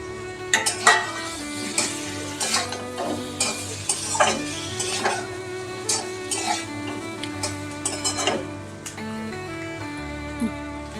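Tomato pieces and poppy seeds fry in a pan with soft sizzling, while a utensil stirs and scrapes in repeated light clinks against the metal, close and moderately quiet with no talk.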